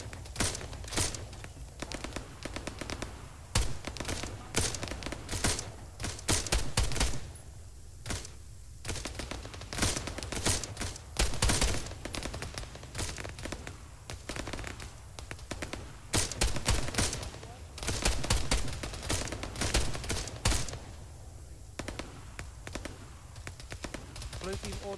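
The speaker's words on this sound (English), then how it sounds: "Try to avoid that machine gun" Sustained machine gun fire in the military shooter ArmA 3, with bursts of rapid shots repeating throughout, some loud and close, others more distant, under a busy battlefield din.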